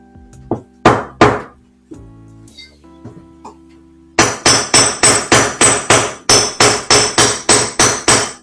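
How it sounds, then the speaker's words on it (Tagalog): Sharp metallic hammer blows on a steel push rod against an LG commercial washing machine bearing, a few irregular strikes at first, then a steady rapid series of about fifteen ringing hits, close and loud. "gagamitan natin uli ng push rod na bakal at martilyo"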